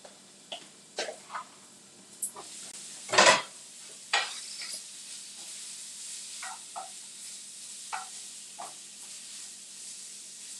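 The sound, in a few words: chicken sizzling in a pan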